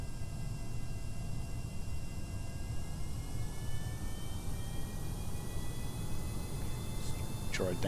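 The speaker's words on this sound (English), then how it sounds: "Bring the jet engines on then" Steady broad roar of aircraft jet engines in Kerbal Space Program, a continuous loud drone with faint high whining tones running throughout, a brief higher sound near the end.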